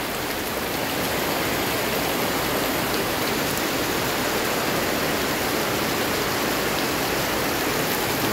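Heavy rain pours down steadily, a dense, continuous hiss and rumble with no pauses and no voices.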